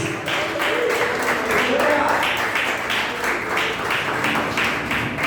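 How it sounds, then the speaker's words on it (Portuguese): Church congregation clapping in rhythm during a Wednesday worship service, a steady dense patter of many hands sustained throughout, with singing or voices blended underneath. "Adora o Senhor com suas palmas."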